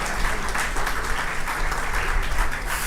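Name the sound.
applause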